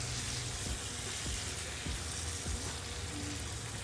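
Tomato chutney ingredients sizzle in a pan, a steady, soft crackling hiss throughout with faint stirring scrapes, no voices.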